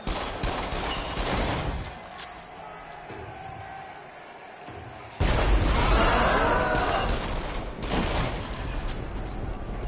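Rapid bursts of video game gunfire rattle close and loud in clustered volleys, easing off briefly before a heavier barrage surges back.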